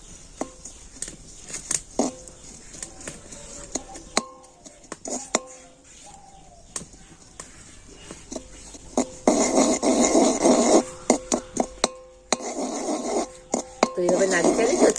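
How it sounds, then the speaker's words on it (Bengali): A metal spatula scraping and clinking against a pan as sugar melts for mishti doi, irregular sharp taps and scrapes with a speaking voice over them, growing busier and louder toward the end. "ঠিক এই সময় একটু খুন্তি দিয়ে একটু হালকা করে এইভাবে নাড়াচাড়া করে দেবো"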